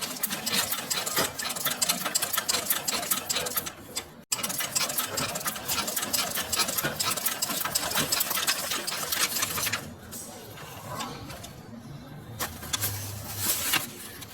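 A sewing machine stitches curves on practice paper in a steady, loud, close-up hum that runs almost the whole time, pausing briefly once, with a slight slowdown near the end.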